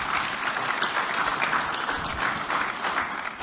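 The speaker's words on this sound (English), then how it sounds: "Yeah, round of applause." Audience at a fireside chat gives a round of applause, a steady dense patter of many hands clapping close by, holding evenly for a few seconds before starting to taper.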